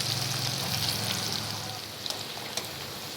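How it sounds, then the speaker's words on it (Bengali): Chopped chilli and garlic fry in hot oil in a pan that already holds fried dried chillies, with a steady close sizzle, a few light stirring scrapes and no talk. "রসুন আর লঙ্কাটা ভেজে নেব।"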